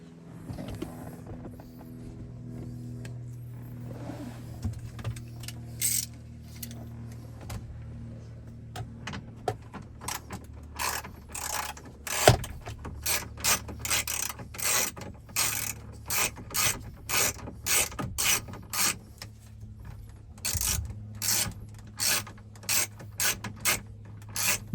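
10mm screws on the radio trim of a 2014-2021 Toyota Tundra are loosened with a ratchet, giving close, quiet ticking clicks that come in rapid, rhythmic bursts.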